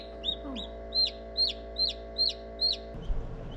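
Newly hatched chicks in an egg incubator give a rapid run of bright, high peeps, about seven in quick succession, over a steady mechanical hum from the incubator.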